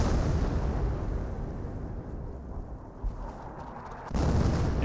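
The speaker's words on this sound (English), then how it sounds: "Your M2 barrage right there." An M2 artillery barrage in Company of Heroes 1, a sustained rumbling wash of distant explosions and booms, steady and moderately loud with a heavier surge near the end.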